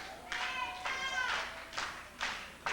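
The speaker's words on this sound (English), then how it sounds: "The crowd trying to rally behind one half of Culture Shock." A wrestling crowd at an NWA tag-team match claps in rhythmic bursts to rally behind one half of Culture Shock, the clapping mixed with raised crowd voices in a large hall.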